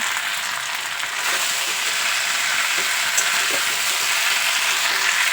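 Ground spice paste sautéed with previously fried vegetables for Bengali sukto, a loud, dense, steady sizzle and crackle with stirring scrapes running the whole time, close to the pan.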